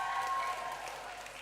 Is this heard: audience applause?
yes